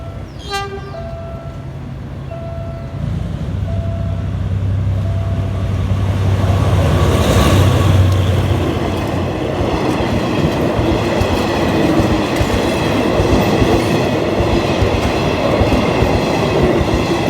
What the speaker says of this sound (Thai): วันนี้ปู่ GEK นะครับทำขบวน 258 นะครับ น้ำตกคนบุรีนะครับกำลังผ่านซุ้มบ้านโป่งใหม่